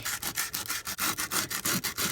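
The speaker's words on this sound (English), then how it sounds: "because it's glossy, so sanding it will help" Steady back-and-forth scratchy rubbing of sandpaper on a glossy book cover, quick even strokes repeating close up for a couple of seconds.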